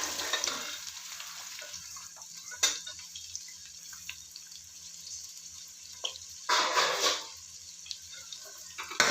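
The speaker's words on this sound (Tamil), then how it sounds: "கொஞ்சம் நல்லா வதக்கிப்போம்." Onions frying in a pan for vegetable biryani, a steady gentle hiss under occasional scrapes of stirring, with a louder burst of sizzle near the end and no talking.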